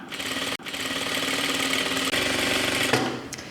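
A sewing machine stitches shirt fabric in a fast, close, steady mechanical run, broken by a couple of short pauses, with no talking over it.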